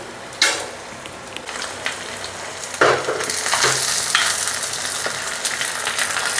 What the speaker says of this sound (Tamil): அப்படியே லேசாக பரட்டி விடுங்க.